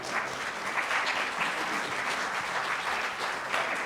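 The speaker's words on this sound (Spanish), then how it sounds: "Muchas gracias por ese aplauso" Sustained applause from an auditorium audience at a ceremony marking International Mother Language Day 2025, many hands clapping in a dense, even wash that holds at moderate loudness throughout, with no voices on top.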